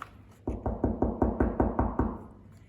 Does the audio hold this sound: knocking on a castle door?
yes